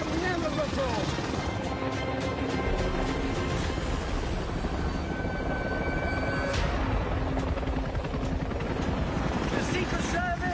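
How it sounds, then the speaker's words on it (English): A helicopter in flight, a loud constant rotor and engine roar heard from inside or close by, with wind buffeting and speech running over it throughout. "This helicopter can only get me so far."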